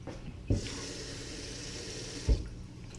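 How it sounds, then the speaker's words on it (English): Water runs steadily into an oven-safe container holding sausages, a continuous close pour for about two seconds with a soft thump at the start and end, no voices. "Just going to add some water."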